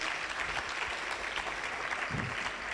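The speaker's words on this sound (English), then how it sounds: "Can we kindly have a round of applause for her?" A summit audience applauds in a steady, dense wash of clapping that holds from start to finish at moderate distance.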